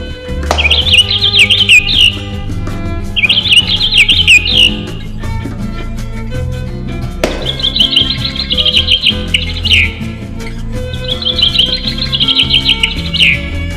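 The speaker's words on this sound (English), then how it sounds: "Then different bird calls and bird moods are played in random." A toy parrot plays random electronic bird calls: bursts of rapid, trilling, chirpy tweets repeat in short phrases over a steady background of synthetic tones, loud and close.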